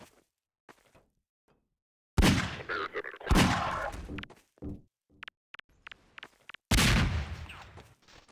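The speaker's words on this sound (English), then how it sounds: "they both threw a grenade at the same time" Grenades going off in a Half-Life 2 workshop map: three heavy explosive bursts with echoing decays, separated by scattered short clicks, thuds and quiet gaps.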